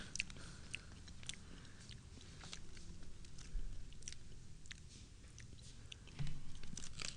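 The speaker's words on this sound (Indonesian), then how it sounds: "Kriuk juga ya." Crunchy sweet local Balinese snack being chewed close to the microphone, a steady run of crisp bites and crunches with no talking.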